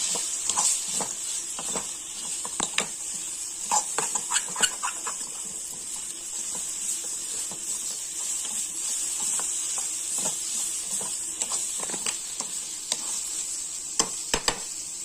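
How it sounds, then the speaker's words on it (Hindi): Neem flower bhaji with adauri bari is stirred in a hot pan, an even hiss of frying punctuated by repeated light clicks and scrapes of the spoon. "अब इसमें डाल देंगे हमारा नीम फूल का भाजी और हमारा अदौरी बड़ी, और इसे 5 मिनट तक मिक्स कर लेंगे अच्छे से।"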